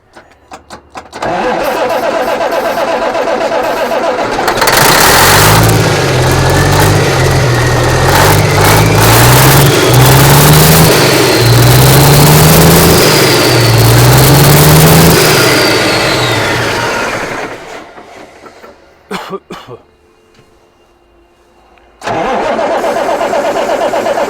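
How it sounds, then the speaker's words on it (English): A diesel engine is started with ether. The starter cranks loudly and rhythmically until the engine catches and roars with rising revs, then drops away, goes quiet briefly and roars back. "We'll try and start it right quick. I'm gonna do it from the other side with a little ether."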